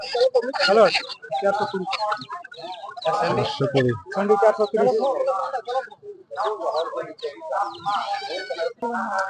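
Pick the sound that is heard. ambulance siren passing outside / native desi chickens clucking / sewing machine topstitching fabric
native desi chickens clucking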